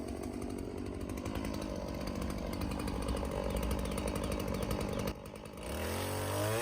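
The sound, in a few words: Stihl MS 180 chainsaw cutting locust log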